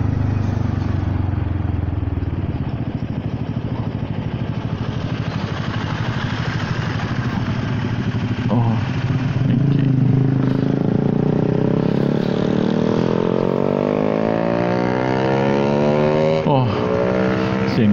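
Honda Forza 300 scooter exhaust droning loudly and up close, engine revving up with rising pitch over an extended run, with a rider's voice speaking over it at times.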